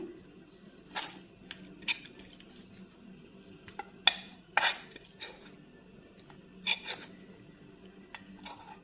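Raw mango pulihora is mixed in a metal pan, with soft scattered clinks and scrapes of a spoon against the pan, quiet and close, spaced irregularly over a faint background.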